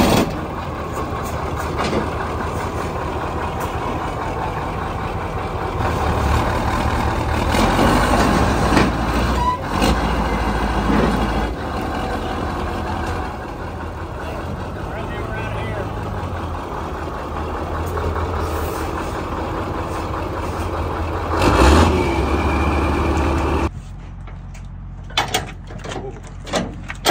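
Loaded trucks with engines idling in a low, steady rumble, fairly close, with occasional clanks and bumps, before cutting to quieter surroundings near the end.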